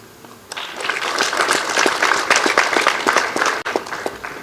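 Conference audience breaking into a sustained round of applause, many hands clapping densely and steadily after a quiet start, with a brief dip near the end.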